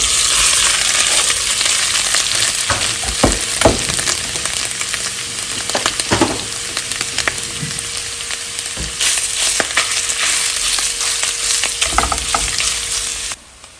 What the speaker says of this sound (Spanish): En una cacerola voy a agregar medio kilo de longaniza.